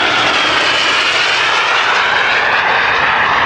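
A giant scale RC T-38 Talon model jet makes a flyby at a scale competition, a loud steady turbine roar whose pitch eases slightly as it passes, with no speech.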